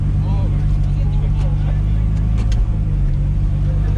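A drag racing car idles with a deep, lumpy rumble while it is eased into a parking spot, the engine loud and steady throughout, with voices talking over it.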